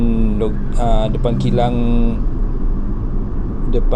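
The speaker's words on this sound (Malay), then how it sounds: "Nama lori ni Daihatsu Grand Max." A Daihatsu Gran Max lorry drives with a steady, loud engine and road rumble throughout, while someone talks over it for the first two seconds.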